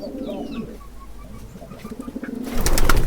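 A male and female pigeon pair about to lay eggs coo softly and throatily at close range, the cooing fading into quiet before a sudden burst of loud rustling and scuffling at the end.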